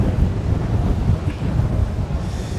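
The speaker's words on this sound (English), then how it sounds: "It's very windy" Strong wind buffets the microphone outdoors at an MG car show in a park, a loud continuous low roar with gusty swells.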